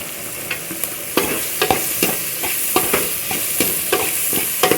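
Ingredients for a fish and brinjal kulambu sauté in a hot pan, with a steady sizzle broken by a dozen or so sharp spatula scrapes and knocks at an uneven rhythm, close by and without speech.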